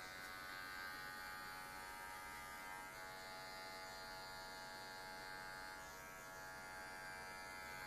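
Electric hair clipper buzzing steadily during a fade haircut with a stripe design, a continuous faint hum throughout with slight dips, no voices.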